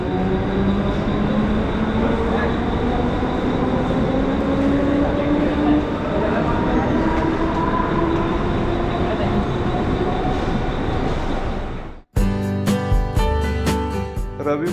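Loud rumble and rattle of a moving commuter train from Diva toward Kalyan with a rising mechanical whine, cutting off near the end before a burst of music.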